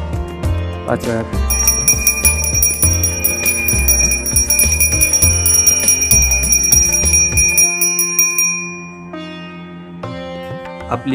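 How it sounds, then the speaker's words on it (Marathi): A hand bell rung during a Gudi Padwa puja in Konkan rings steadily for several seconds, its bright metallic tones sustained over a low drone of voices and background sound before fading. "आणि आता हे कर घंटी"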